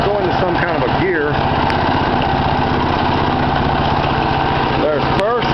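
Home-built mini dozer engine running loud and close, a steady rough idle with pulsing vibration as it is put into gear, with someone talking over it.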